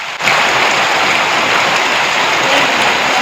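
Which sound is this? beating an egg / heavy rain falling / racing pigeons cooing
heavy rain falling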